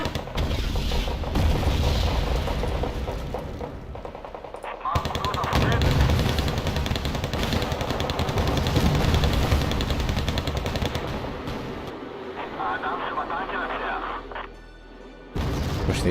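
Rapid machine-gun bursts and heavy tank cannon booms from the battlefield game Wargame Red Dragon, with T-72 tanks in the fight, fire almost continuously and loudly, with brief pauses and a faint voice under the din.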